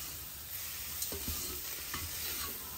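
A spoon stirs a masala multigrain kichidi mixture in a pot, producing a few soft scraping strokes over a faint, continuous sizzle, heard close and alone.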